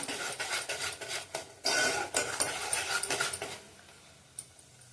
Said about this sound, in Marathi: आता मसाला बघा तेल सोडायला लागला, मसाला चांगला तेलात भाजला गेला।